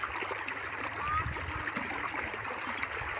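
Water runs steadily into a flooded farm field, a continuous rushing, gurgling flow close by with brief splashes, and a voice talks over it now and then.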